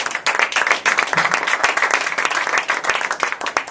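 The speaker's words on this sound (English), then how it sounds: "how about another round of applause for Neil?" Steady audience applause at a public speaking event, many hands clapping in a dense, even patter for a few seconds with no talk over it.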